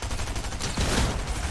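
Rapid bursts of automatic gunfire from Fortnite fill the clip, dense and continuous, with a heavier cluster of shots in the middle and no speech over it.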